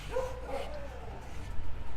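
A puppy gives a few soft, high yips and whimpering barks close by, low in level against a steady background hum.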